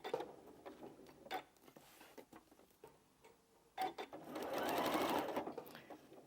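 A sewing machine stitches quilting fabric, starting with soft ticks and a few short bursts, then running in a louder, steady whirring stretch of rapid stitches near the end.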